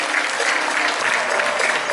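An audience claps steadily at a tiger presentation, a dense, even burst of applause heard close and alone.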